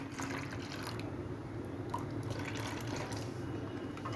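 Milk pours into a bowl in a cramped home kitchen, a soft, steady liquid trickle that runs continuously and faintly with small splashy drips.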